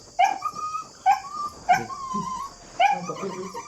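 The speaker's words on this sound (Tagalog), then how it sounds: "Parang tumatahol yung aso mga to." A dog yips and barks in four short, high bursts spaced about a second apart, with faint whimpering between them.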